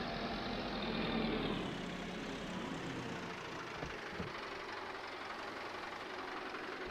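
In Farming Simulator 22, a tractor engine idles with a low, steady rumble that fades slightly after the first couple of seconds, then continues as a quieter, even drone.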